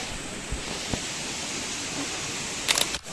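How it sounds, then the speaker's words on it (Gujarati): A waterfall spilling down from the mountains into a deep, crystal-clear pool at Girnar near Junagadh, heard as a steady, loud, close rushing roar with a couple of sharp clicks near the end. "એકદમ પાછળથી ઝરણા પડે છે"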